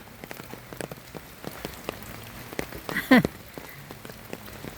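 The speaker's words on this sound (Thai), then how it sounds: "ฝนตก" Steady patter of rain falling on a surface during a storm in rural Thailand, with scattered drips, plus a brief louder splash or clatter near the middle.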